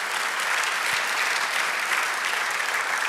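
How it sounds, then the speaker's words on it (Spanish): Congregation in a Spanish-language church service breaks into full, even applause, a thick continuous roar of many hands clapping at constant loudness with no voices above it. "Dale otro aplauso."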